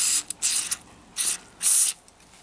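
XCP lubricant is sprayed into a lock in several short bursts, bright hissing squirts of uneven length with brief pauses between, close and fairly loud.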